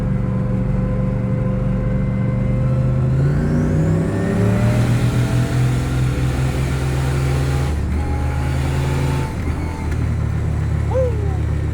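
A turbocharged Camaro pulls hard on a highway, its loud engine note climbing steadily in pitch through a long full-throttle run, then dropping on a shift and climbing again, with a turbo whistle rising over the roar near the start.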